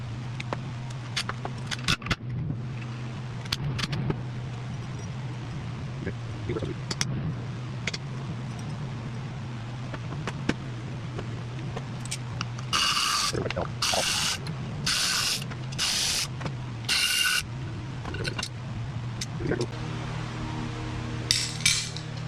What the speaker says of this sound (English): First off, we're going to pull the clutch assembly out.